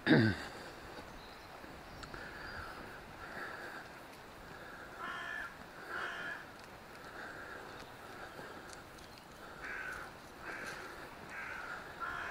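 Crows caw repeatedly from a coastal cliff nest, the harsh calls coming in scattered bursts at a moderate distance over steady wind and surf noise, with no talking.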